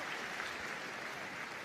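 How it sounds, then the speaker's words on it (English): Audience applause fills a large arena at the Crufts dog show during the Gundog Group presentation, a dense, even patter of many hands clapping at a distance, steady and with no break for the short burst. "It's going to round of applause for all of the other Best of Breed winners."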